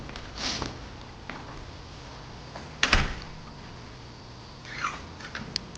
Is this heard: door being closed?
yes